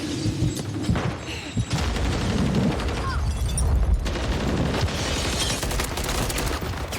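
Rapid gunfire crackles in a first-person shooter match, with bursts and booms layered over one another against a busy game mix and occasional speech.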